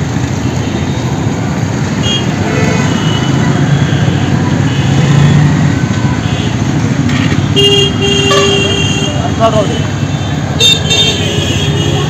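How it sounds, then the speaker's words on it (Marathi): A vehicle pulls in amid steady road and engine noise, sounding its horn in a few short toots near the end, fairly loud and close. "गाडी आली बरं."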